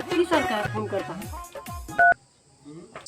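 Telephone dialing tones as someone places a call in a rural farm comedy sketch: a short steady two-tone keypad beep stands out after a stretch of talk, followed by near silence and a faint hum, with voices speaking beforehand.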